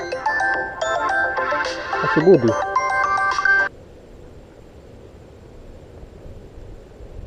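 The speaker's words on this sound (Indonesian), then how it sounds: "ada telepon nih" Phone ringtone playing a loud, bright repeating melody for about four seconds, then stopping abruptly as the call is answered, leaving quiet room noise with a brief spoken voice.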